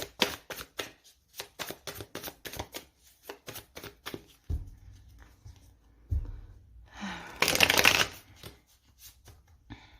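The Light Seers Tarot cards are shuffled in a rapid, close run of crisp riffles and flicks. A few soft thumps and a burst of breathy noise follow, with no speech.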